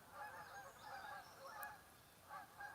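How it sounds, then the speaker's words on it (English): Canada geese give several faint, distant honks in quick succession, rising and falling over a soft outdoor background. "we got some Canada geese. Can you hear them?"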